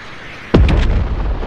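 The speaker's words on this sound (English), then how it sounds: "There's rockets flying everywhere." A rocket blast in an online multiplayer shooter lands as a sudden sharp boom with a short rumbling tail and a couple of quick follow-up pops, loud and near.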